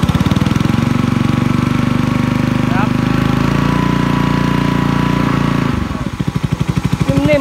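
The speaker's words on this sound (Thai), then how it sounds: "เอาเร่งเครื่องมานิดนึง" A Japanese pesticide spray pump's small engine runs loud and close in a steady, throbbing drone, then its pitch drops and the beat slows near the end.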